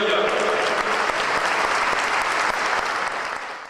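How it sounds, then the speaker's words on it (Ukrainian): Sustained audience applause fills a renovated church in Berdychiv after a choir performance, a dense, steady clapping that fades slightly at the end. "Ми вам всім аплодуємо"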